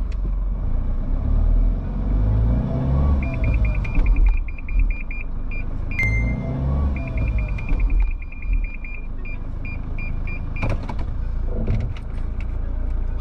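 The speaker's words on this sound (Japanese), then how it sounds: "警告音も鳴りましたし" A Toyota Hiace van with Toyota Safety Sense pre-crash system drives toward a test dummy. Its warning sounds as two runs of rapid, evenly spaced beeps with a short tone between them, over a steady, close engine and road rumble.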